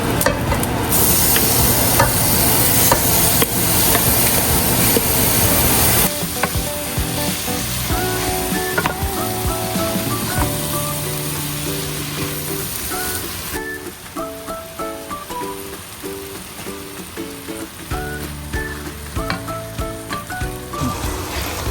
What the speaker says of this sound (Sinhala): තෙල්වල පොඩ්ඩක් අර බැදෙන්න දාලා පෝක් එක දැම්මම පෝක් එක කළු පාට වෙනවා